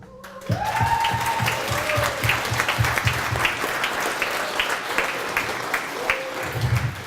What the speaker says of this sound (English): May I have a big applause for the Polish students who invite us for the last 4 days.